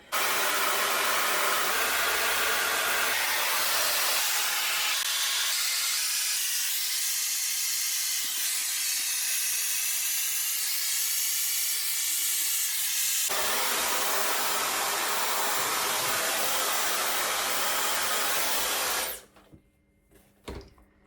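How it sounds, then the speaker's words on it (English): A hair dryer blowing up from beneath curly hair gathered in a metal strainer gives a loud, steady rushing hiss that shifts in tone midway and cuts off abruptly near the end. "your hairdryer will be underneath"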